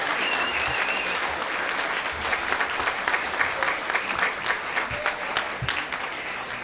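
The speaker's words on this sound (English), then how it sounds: "A wonderful cheer from Mr. Weston." Applause and scattered cheering from a crowd at a school district board meeting, a steady dense clapping that continues throughout with a few sharper whoops rising above it.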